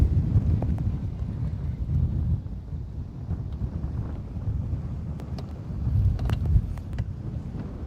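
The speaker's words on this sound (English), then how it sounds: "It is breezy." Breezy wind buffets the microphone out on Lake Guntersville, a low rumbling roar that swells and eases continuously with occasional faint knocks in the background.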